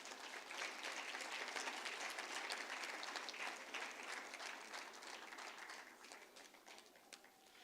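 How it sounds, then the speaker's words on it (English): A sustained, even round of applause from a crowd at the opening of the EU-Kenya Business Forum 2023, heard at a distance as a dense wash of clapping that tapers gently near the end. "Round of applause, please,"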